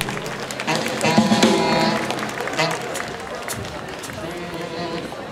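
A concert audience applauds one another, a steady wash of clapping swelling early and then thinning, with a voice talking over it at times.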